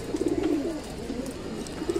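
A flock of pigeons feeding on scattered wheat coos softly and continuously nearby, the low rolling calls repeating over a steady background hum, with no talking.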